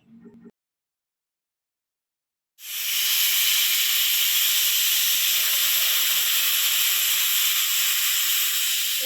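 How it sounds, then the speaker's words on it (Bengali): A pot of chickpeas and peas boiling over a village-style stove lets out a loud, continuous steam hiss that starts abruptly after a short quiet gap and holds steady to the end. "এখানে আমি বুট মটর সেদ্ধ বসিয়ে দিলাম"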